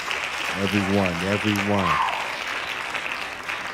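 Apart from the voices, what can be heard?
audience hand claps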